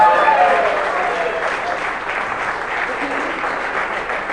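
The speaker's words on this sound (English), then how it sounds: "the kind of applause we just heard" Sustained applause from a large audience at the India Today Conclave 2024 welcoming Dr. Jaishankar, steady and fairly loud throughout, a dense wash of clapping.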